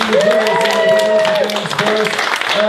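An improv show audience applauds its team, a loud, steady wash of clapping throughout with voices and a held vocal tone riding over it.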